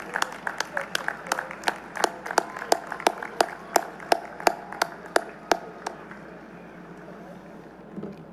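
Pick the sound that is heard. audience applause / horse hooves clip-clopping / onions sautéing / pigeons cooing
audience applause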